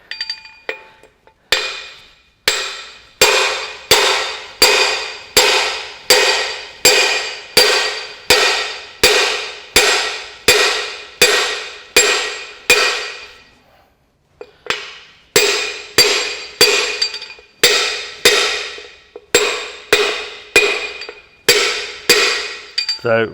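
A hammer strikes a long punch to drive out the dry cylinder liners of a Massey Ferguson 65 tractor engine, sharp metallic blows in steady rapid bursts, close and loud, with a short pause between two runs.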